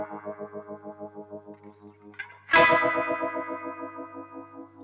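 Electric guitar run through a Prometheus DLX filter pedal in its tempo-based envelope mode: steady rhythmic pulsing notes, then a loud new strummed chord at about 2.5 seconds that sweeps and pulses in time as it rings out, with no voices.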